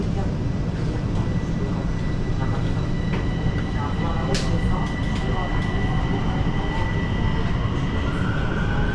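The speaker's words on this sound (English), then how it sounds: "Let's take the metro a few stops to one of the main sites in Bucharest," A Bucharest metro train rumbles loudly and steadily through the ride, with a continuous low roar, faint metallic squeals and clicks over it, and a voice faintly present in the noise.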